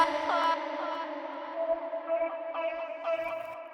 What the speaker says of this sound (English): You can hear all that reverb settle down and then the vocals dry again.